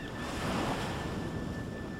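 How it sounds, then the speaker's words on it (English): Tall ocean waves crash steadily onto a white sandy beach along a barrier-island seashore, a loud continuous roar of surf with wind noise, no voices. "Tall waves crash."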